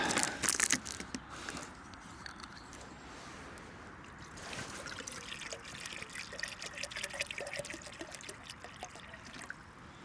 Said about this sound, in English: let's get some water in here